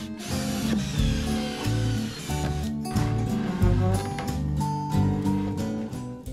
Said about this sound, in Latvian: pēc tam kaut kādu daļu vienkārši saskrūvējam kopā ar skrūvēm no abām pusēm